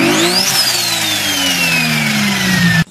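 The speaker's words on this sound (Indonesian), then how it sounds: "turbocharger" A turbocharged car engine revs up sharply, then winds down in a long falling whine over a steady growl, loud and close, cutting off abruptly at the end.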